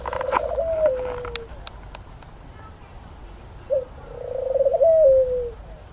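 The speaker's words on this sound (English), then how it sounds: "That's why we have ringneck doves." Ringneck doves coo nearby, a soft rolling call early on and another longer cooing phrase later, over a low steady background hum with faint clicks.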